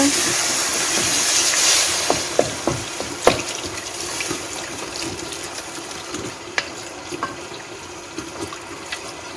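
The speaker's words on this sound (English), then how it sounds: "Add some cold water." Cold water poured from a tap into a cooking pot of fesenjoon with turmeric, a steady close splashing wash of running water with a few small clinks and knocks.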